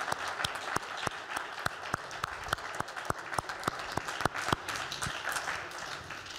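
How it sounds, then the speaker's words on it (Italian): Audience applause at a national poetry and fiction award ceremony, a steady mid-distance patter of many hands with sharper individual claps standing out, sustained throughout without talk. "un applauso."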